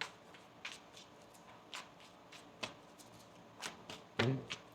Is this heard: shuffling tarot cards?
yes